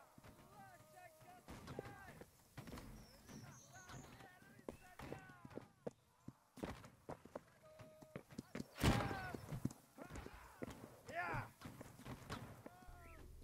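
Horse hooves clunk past in Holdfast: Nations at War, a run of clip-clop beats mixed among distant gunfire and artillery booms, with people talking over much of it.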